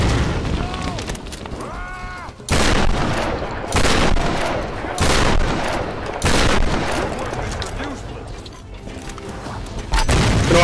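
Repeated loud, broadband blasts from thrown grenades in Tomb Raider Definitive Edition, several heavy bursts spaced a second or two apart amid ongoing combat noise, with a voice speaking between them.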